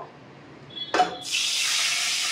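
Two cups of water go into a kadai that was just used to fry raisins and cashews for rava kesari. After a short clunk, a steady hissing pour starts and continues to the end of the clip.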